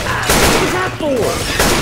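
Rapid gunfire crackles in a Left 4 Dead 2 shootout, loud bursts of shots with short gaps, overlapped by game voices speaking.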